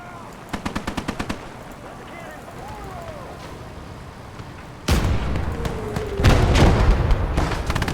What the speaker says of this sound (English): Artillery!